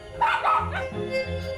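A dog gives a couple of sharp, close barks followed by a short whimpering yip, loud and clear against a quiet background.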